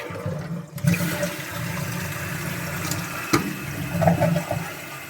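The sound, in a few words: toilet flushing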